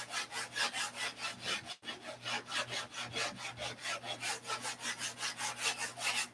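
Steady back-and-forth sanding strokes, rhythmic and close, scrape across a surface in a quick even cadence with one brief pause, no voices.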